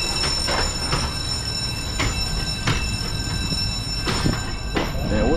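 Tourist train at Shantytown, West Coast New Zealand, rolling along rails with a steady rumble, periodic clacks and a thin metallic squeal, loud and close.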